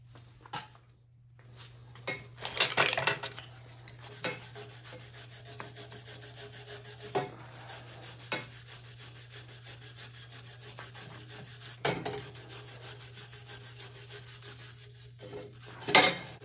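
A brush scrubbing rust off the shaft of a 1910–14 Flanders motorcycle during a restoration, dry scratchy rubbing strokes that come in bursts with pauses between them, close and fairly quiet over a low steady hum.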